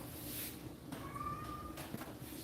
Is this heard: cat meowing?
yes